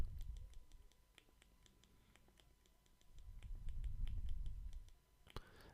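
Computer keyboard keys tapped in quick, uneven bursts of light clicks, close and fairly quiet, with a low background rumble.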